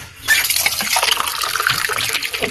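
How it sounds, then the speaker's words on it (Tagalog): A glass of water poured into a cooking pot for boiling, a close splashing gush that runs continuously for a couple of seconds. "maglagay lang tayo ng isang basong tubig para tayo magpapakulo na"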